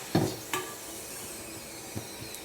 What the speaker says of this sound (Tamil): இப்போ கொத்தவரங்காய் வத்தலை வறுத்து பார்க்கலாம். நல்லா இந்த மாதிரி ப்ரௌன் ஆகிற வரையும் வறுத்துக்கணும்.